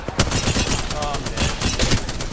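Gunfire in the video game Apex Legends, a dense stream of overlapping shots and rapid bursts running steadily throughout at close range, with game noise mixed in.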